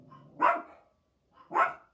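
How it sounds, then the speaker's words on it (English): Two loud, close dog barks about a second apart, heard amid a chaotic indoor scene with no talk over them. "Oh my gosh, dog chaos."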